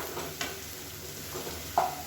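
Thooyamalli millet rice simmers in a pot on a small gas burner, a soft continuous bubbling hiss with a few light pops and a brief stir-like clink.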